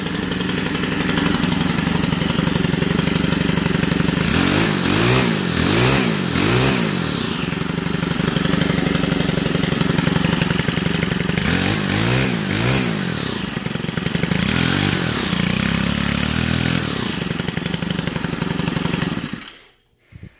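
A Stihl 4-mix two-stroke-style engine running at partial throttle, loud and close, with a steady buzzing drone that surges and dips in several uneven bursts as the throttle is blipped, then cuts out abruptly at the end.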